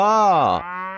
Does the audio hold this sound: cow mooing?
yes